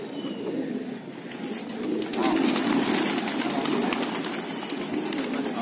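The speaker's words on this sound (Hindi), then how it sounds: "तीन कबूतर पकड़े हैं" Pigeons cooing up close on a rooftop, a steady, throaty rolling coo that swells louder midway and continues without pause over faint background hiss.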